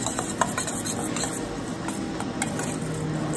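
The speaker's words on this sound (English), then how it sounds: "Just give that a stir." Pumpkin seed gremolata of parsley, pumpkin seeds and lemon zest is stirred in a bowl, giving a steady soft scraping and rustling with a few light clicks, close and fairly even throughout.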